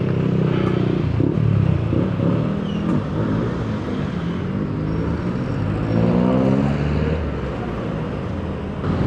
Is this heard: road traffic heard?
yes